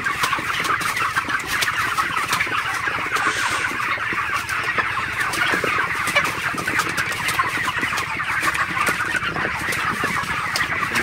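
Broiler chickens in a poultry shed on a very hot day, a dense flock clucking continuously and loudly throughout, with no talk.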